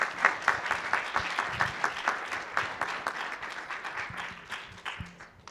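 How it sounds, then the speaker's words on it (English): A lecture audience applauds steadily, many hands clapping in a dense, even patter that slowly tapers off over several seconds, heard from within the room. "Let's give them a round of applause, please."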